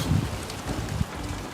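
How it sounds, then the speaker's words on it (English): Gusty wind buffets the microphone outdoors beside an offset smoker grill cooking beef short ribs, a steady low rumbling roar with a few stronger gusts, no voices. "It is very windy here"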